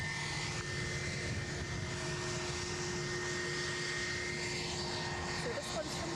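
An EasyJet airliner from Belfast at Edinburgh Airport gives a steady, loud engine roar with a constant whine that lasts throughout, while people talk faintly underneath.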